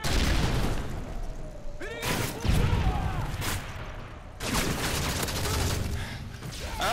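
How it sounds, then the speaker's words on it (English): Video game battle with grenades exploding and gunfire, several heavy booms landing at intervals among rapid shots, loud and close, with a brief whistling sweep before one blast. "they just throwing nades randomly"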